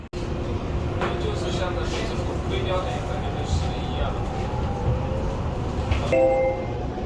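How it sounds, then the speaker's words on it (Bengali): Metro train pulling into a station in Guangzhou, China, a steady broad rumble and hum across the whole stretch with faint tonal whines and a brief chime near the end, while the station's background chatter runs beneath. "কিছুক্ষণের মধ্যে মেট্রো আসবে"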